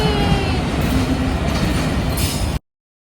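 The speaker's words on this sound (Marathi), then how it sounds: "ट्रेन आली" A train pulls in with a steady, loud rumble and rattle of wheels on rails that runs close and unbroken for about two and a half seconds, then cuts off abruptly.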